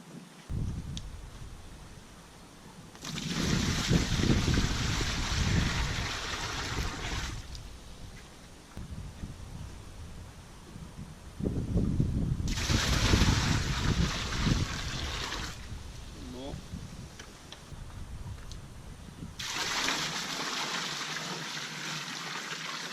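Water is scooped from a koi pond in three separate bouts of splashing and pouring, each lasting a few seconds, with quieter gaps of low handling noise in between.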